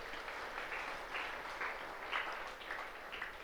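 An audience at a discourse on Sanatana Dharma claps in a sustained, even patter, moderately distant, with no voices over it.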